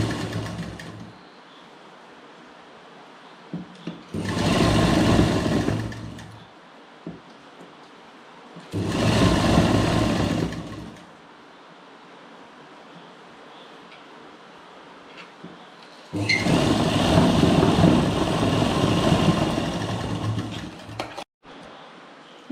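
A sewing machine stitches the folded bottom hem of a churidar in three separate bursts of fast, steady whirring, close and fairly loud, with quiet pauses of fabric handling between runs.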